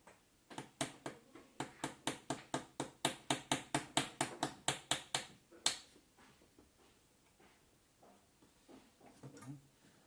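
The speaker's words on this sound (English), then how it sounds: "put the pin in place at a slight angle just like before, and hammer it in." Rapid, steady taps of a small hammer driving a pin into a wooden model ship frame, about twenty sharp knocks speeding up, then a final hit and quiet handling noises.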